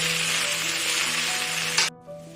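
Ginger garlic paste sizzling hard in a hot pan, a steady loud frying hiss that cuts off abruptly near the end, leaving a quieter residual sizzle.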